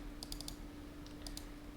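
A computer keyboard is typed on while playing the game Timberman, giving two quick bursts of light clicking keystrokes that sit faint and close under a low steady hum.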